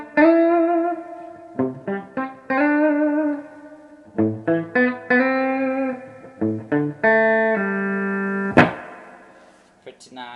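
A Mesa Dual Rectifier Roadster head with reverb set to 12 carries a played electric guitar, heard as clean picked phrases and single notes that ring out with a reverb tail, ending in a sharper strum, with no talking over it.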